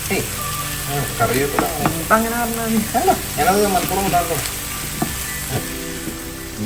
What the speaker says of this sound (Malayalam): കോവയ്ക്ക മെഴുക്ക് വരട്ടിയുടെ സവോള വഴറ്റിക്കൊണ്ടിരിക്കുകയാണ്.